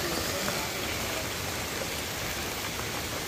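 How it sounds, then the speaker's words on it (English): Rain falls steadily at an outdoor campsite shelter, a dense even hiss of drops that fills the scene without pause. "It's raining."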